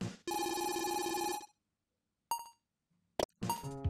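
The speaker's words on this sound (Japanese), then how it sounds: "電話。" A telephone in a job-hunting video game rings in a bright electronic tone, with a long burst followed by shorter rings separated by gaps, crisp and close.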